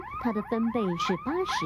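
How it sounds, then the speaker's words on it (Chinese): A car anti-theft alarm wails loud and close in rapid rising and falling electronic tones, cycling several times with a narrator's voice over it. "这是防盗器的声音"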